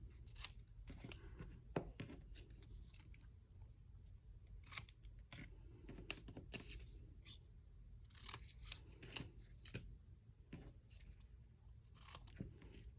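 Scissors cut paper shapes in half with a series of crisp, close snips and crunches in uneven bursts against a quiet room background.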